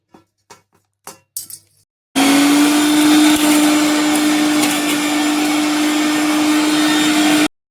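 An electric mixer grinder pulverising coconut, dal and tomato for chutney starts after a few light clicks and knocks, then runs as a loud steady whine for about five seconds before stopping.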